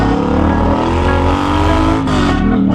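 Triumph motorcycle with loud aftermarket exhaust pipes, engine droning and revving steadily at close range, with a brief dip in pitch near the end as the throttle changes.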